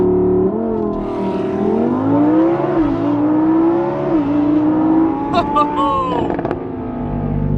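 A 2020 Lamborghini Huracan Evo at full throttle, its loud engine note climbing steadily in pitch through a sustained acceleration run, with a brief shift or lift near the end and voices talking over it.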